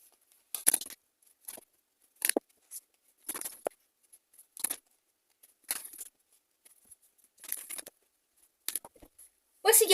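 Tarot cards are shuffled and drawn by hand, giving a run of short, crisp snaps and flicks close by, spaced by quiet pauses and ending in a denser riffle.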